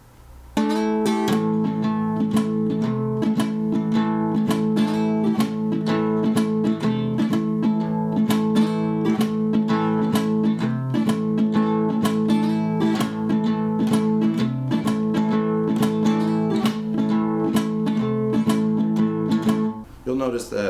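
Guitar playing a blues lick, fretted with two fingers: a steady, driving rhythm of repeated picked notes over a droning bass, loud and continuous for about twenty seconds, without talking.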